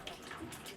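Water runs from a tap at full pressure in a Mexico City home, a faint, steady hiss and splash with a voice faintly audible in the background.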